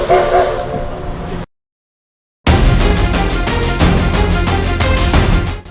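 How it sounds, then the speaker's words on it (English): An 1880 steam train in South Dakota running on its track, loud and close, with rhythmic chuffing and rattling after a brief silent gap, while a piercing steam whistle rings out over the clatter. "So I came to ride one of these 1880 trains, steam train."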